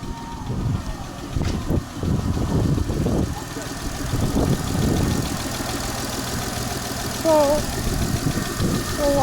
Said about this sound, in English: So we have to let the engine run for some minutes before I take it for a drive